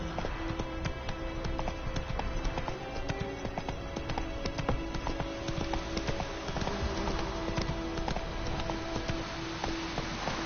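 A horse galloping in The Witcher 3 on PS4, a continuous fast clip-clop of hooves under steady game ambience and music, dense and even throughout.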